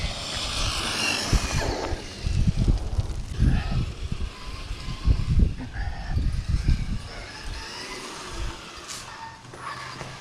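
A DeeRc 1217 RC car on a CNHL battery runs at full throttle, a rising electric motor whine with surging bursts as it passes, heard from a distance over outdoor wind noise.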